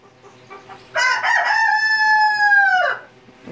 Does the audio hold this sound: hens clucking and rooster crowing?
yes